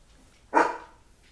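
A single sharp bark from a dog named Kiki, fairly close and loud, fading quickly into a quiet room.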